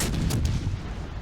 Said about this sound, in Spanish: Aquí le disparo con los cañones de atrás, que obviamente están más girados que los de adelante.